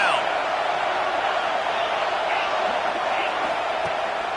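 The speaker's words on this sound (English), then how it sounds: "Decibels rising as the crowd gets behind this defense on third down." A football stadium crowd roars as the defense lines up on third down, making a dense, sustained wash of noise that holds steady throughout, with a voice faintly underneath.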